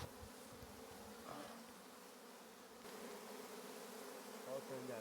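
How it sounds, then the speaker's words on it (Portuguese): A swarm of honeybees hums around honeycomb at a small farm, a faint, constant buzzing drone that swells slightly partway through, with no voices. "Olha o tanto de abelha."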